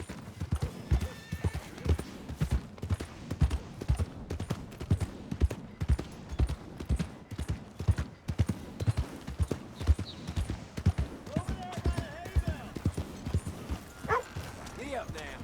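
Horse hooves clip-clop in a steady, repeated rhythm close by, loud throughout, with a brief whinny and a person's voice speaking over the hoofbeats.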